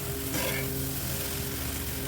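A ladle scrapes and stirs tofu through a sizzling pan, reaching down to the bottom, with a continuous frying hiss and a brief louder scrape near the start, close and steady without speech.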